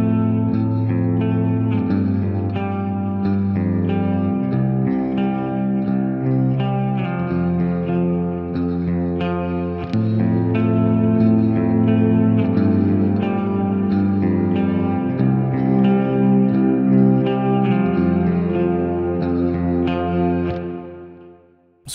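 A clean electric guitar played through the Archetype Nolly X amp plugin rings out in sustained chords and arpeggiated notes, soaked in lush, wet reverb, alone and fading out at the end.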